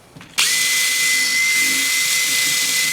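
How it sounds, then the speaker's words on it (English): A power drill bores a pilot hole at a marked center point while installing a kids' cot, starting abruptly after a brief quiet moment and then running steadily and loudly at constant speed for the rest of the clip. "Then I'll drill a pilot hole"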